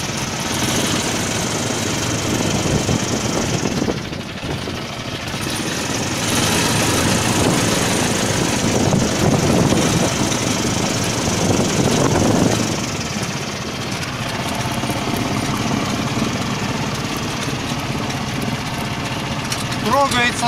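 The engine of a homemade aerosled idles with a loud, steady, rough drone. The hum holds unbroken the whole time, with a slight dip in level partway through.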